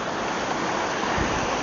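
A waterfall in a natural outdoor setting gives a steady, close, full-bodied rushing roar that holds constant throughout, with no voices.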